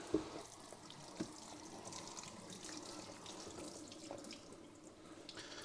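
Tap water runs steadily into a kitchen sink while a large batch of garden tomatoes is rinsed for fresh salsa, a constant close hiss and splash with a few brief knocks and clatters.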